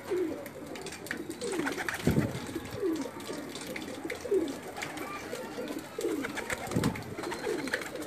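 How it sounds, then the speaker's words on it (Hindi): A favourite breeder pigeon, number 42, coos in soft repeated low notes at a steady pace, with running water like a tap trickling underneath throughout. "ये मेरा 42 नंबर कबूतर है। मेरा फेवरेट कबूतर है ये।"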